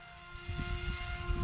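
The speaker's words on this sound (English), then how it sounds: "just a great slow flying plane" A small electric RC airplane motor, a HobbyKing AXN Floater, whines with a steady high-pitched tone, constant and close, over a low rumbling background.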